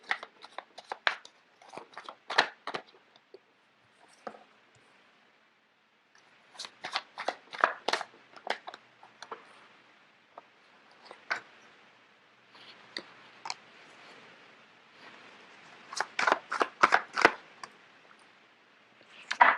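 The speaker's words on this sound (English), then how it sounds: "So let me just get the cards out first of all." Tarot cards being shuffled in repeated bursts of crisp riffling and slapping, close and fairly quiet, with short pauses between rounds and no talking.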